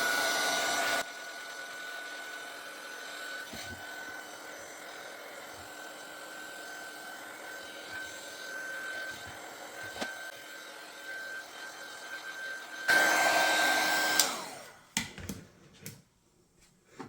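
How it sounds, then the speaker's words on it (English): A heat gun blows a steady, loud whoosh over a Brusho-painted background on heavy cardstock, running continuously with a faint whine before it cuts off and a few clicks and handling noises follow. "So I want to try and dry it and keep as much of that as I can."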